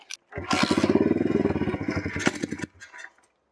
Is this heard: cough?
no